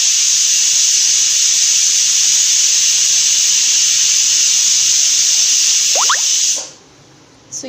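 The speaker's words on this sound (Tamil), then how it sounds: "முதல்ல தண்ணி விடாமல் நல்லா அரைச்சிக்கணும்." A mixer grinder blends pomegranate and beetroot for juice with a loud, steady high-pitched whine that runs unbroken for about six and a half seconds, then cuts off abruptly.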